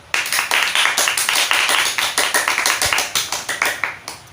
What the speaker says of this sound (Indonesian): tepuk tangan dulu dong untuk kelompok 2